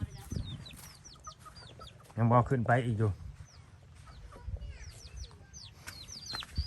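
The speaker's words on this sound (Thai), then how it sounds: "ไก่ตัวนี้ก็ดื้อเลยได้นี่เนาะ" Chickens cluck and chirp around a rural homestead, with repeated short calls near and far and someone speaking briefly over them partway through.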